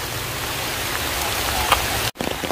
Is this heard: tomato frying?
no